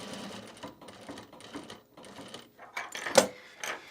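A sewing machine stitches a self-drafted bag in several short bursts separated by brief pauses, close and fairly quiet, with a sharper mechanical clack near the end.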